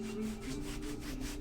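A hand scraping across a canvas painted with acrylics: a steady, close dry rubbing texture with soft rhythmic strokes, continuous for a second and a half, no talking.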